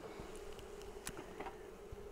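Honey bees buzz steadily around a Flow Hive during a hive split, a faint continuous drone with occasional individual bees passing close by.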